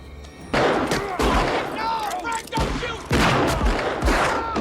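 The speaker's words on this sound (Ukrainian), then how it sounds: "І ось 30 секунд, 30 пострілів." Bursts of rapid revolver gunfire, about 30 shots in 30 seconds, crack out in several volleys, loud and close, with echoes and some shouting voices mixed in.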